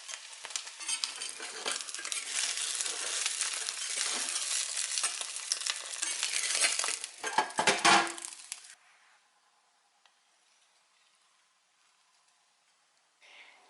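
A wild chanterelle mushroom omelet sizzles and fries in a pan for about eight seconds with crackling and a brief scrape, then the sound cuts off into near silence.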